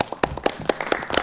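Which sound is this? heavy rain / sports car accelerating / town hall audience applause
town hall audience applause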